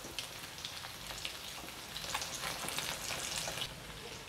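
Fish kola balls frying in oil in a pan, a steady crackling sizzle with faint pops throughout, quiet and close, with no talk.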